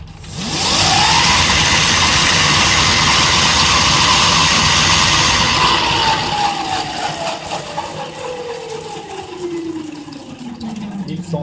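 An MBK 51 moped's rear wheel spins with no load at about 1130 rpm, giving a loud, steady mechanical whine that holds, then slowly drops in pitch as it winds down.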